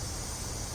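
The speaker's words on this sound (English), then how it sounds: "my compressor's leaking air right now" A leaking air compressor gives off a steady, even hiss of escaping air, continuous and unbroken for the whole moment.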